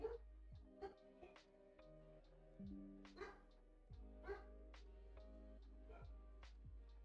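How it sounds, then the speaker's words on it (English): Faint, distant dog barks and yips come in short, irregular bursts against a quiet background with a low steady hum. "can y'all hear him barking?"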